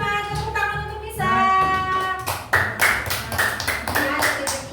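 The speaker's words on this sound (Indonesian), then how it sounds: "Lihat teman-teman, tepuk tangan untuk Nisa" Children in a classroom clapping together, a burst of rapid claps that starts after a teacher speaks and continues for a few seconds, close and fairly loud.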